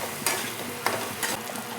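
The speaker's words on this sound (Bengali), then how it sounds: "এই যে টমেটো কুচি, মশলা দিয়ে সবসময় এরকম রুটি দিয়ে নাড়াচাড়া করতেই থাকতে হবে।" Chopped tomato and spices are stirred in a frying pan for a home-style chicken dish: three sharp scraping strokes stand out over a low, steady sizzle, close and fairly quiet, with no voices.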